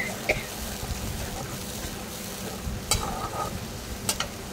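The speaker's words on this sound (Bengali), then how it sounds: "এখানে জিরে, আদা, টমেটো, শুকনো লঙ্কা বাটা, লবণ দিলাম, দিয়ে এটাকে ভালো করে কষবো" Ground paste of cumin, ginger, tomato, dried chilli and salt frying in a pan: a close, continuous sizzle with a few sharp clinks and scrapes of stirring, no talk.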